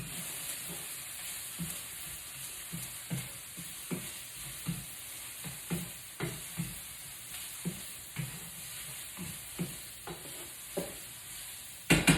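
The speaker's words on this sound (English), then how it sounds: "Back to stir my asparagus." Asparagus frying in a pan is stirred at a steady pace, each stroke a soft scraping thump over a constant bright sizzle, close by with no speech.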